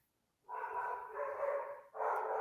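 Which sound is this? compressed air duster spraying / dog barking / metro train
dog barking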